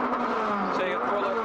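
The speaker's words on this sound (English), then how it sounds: "Sounds like Richard's transmission just let go." A rally car at the Rally of the Tall Pines in the 2011 Canadian Rally Championship grinds and whines as its transmission fails, a harsh mechanical drone under commentator speech.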